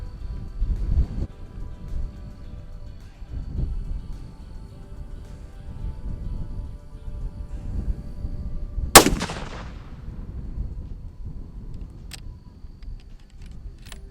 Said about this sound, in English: Gonna fire 3 at it and see how she looks.